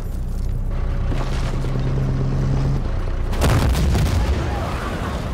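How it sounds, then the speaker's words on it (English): Heavy booming gunfire and explosions in a video game, a steady loud rumble of distant shooting with a sharper burst partway through, no voices heard. "Where's that shooting coming from?"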